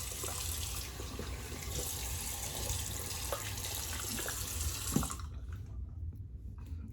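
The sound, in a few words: tap water running for a cold water rinse after shaving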